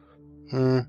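A single short sheep bleat from the game Tolkien Craft II, a clear nasal tone lasting about a third of a second, close and loud after a brief quiet lead-in.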